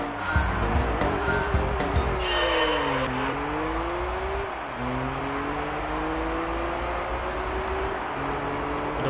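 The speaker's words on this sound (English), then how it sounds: "officially where we are driving a Skyline GTR R34" A Nissan Skyline GT-R R34 driven at Laguna Seca in Gran Turismo 3, its engine note rising and falling through gear changes, loud and steady, with a brief burst of clicking at the start.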